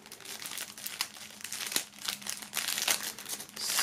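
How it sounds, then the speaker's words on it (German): Thin plastic foil crinkles and crackles in continuous bursts as a box set album is unwrapped, close and fairly loud, with no talking. "das Album muss hier aus der Folie befreit werden"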